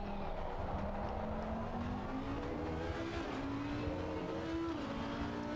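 GT3 race car in Assetto Corsa Competizione passing a McLaren GT4 at Laguna Seca, engine droning steadily and climbing through rising upshifts, held at moderate volume without talk.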